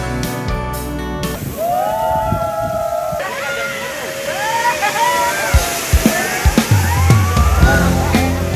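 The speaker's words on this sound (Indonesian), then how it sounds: "Dengan menggunakan ban, kita meluncur di lintasan sepanjang 100 meter. Namanya water slide atau perosotan air." Water splashing and rushing along a 100-meter water slide ridden on rubber tubes, a loud continuous wash with sloshing bursts and thumps near the end, under music and lively voices.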